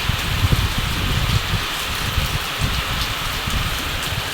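Heavy rain falling outside a home, a steady broadband patter with small uneven spikes of drops landing close by, fairly loud throughout.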